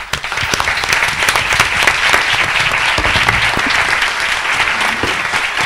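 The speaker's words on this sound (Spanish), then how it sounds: "Así que yo un aplauso para vosotros antes de irnos." Loud, sustained applause from an audience at a parapsychology round-table, thanking the Protección Civil crew in a thick, even burst of clapping from many hands.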